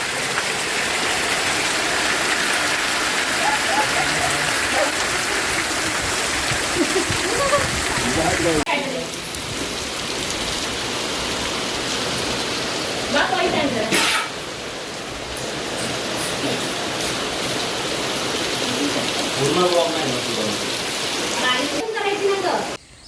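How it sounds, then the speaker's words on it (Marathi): Heavy monsoon rain pours down in Konkan, a constant wash of falling water, with people talking intermittently nearby beneath and over the downpour. "तोपर्यंत पाऊस एन्जॉय करा"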